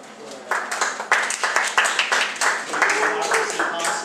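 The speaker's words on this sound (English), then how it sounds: "Give them a round of applause" Audience applause breaks out at a 2012 Department of Elections presentation, a burst of many hands clapping that starts suddenly and holds steady at moderate loudness for several seconds.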